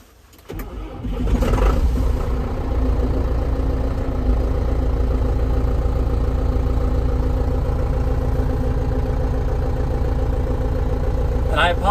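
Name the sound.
tractor engine starting and idling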